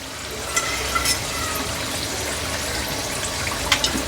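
Lentil chekodi snacks sizzle steadily in hot oil, a continuous bubbling hiss with occasional small pops, close and even throughout.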